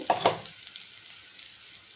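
Ivy gourd and chickpeas with chilli powder, salt and spices are stirred in a pan over a low flame, giving a couple of sharp scraping stirs, then a faint, soft sizzle.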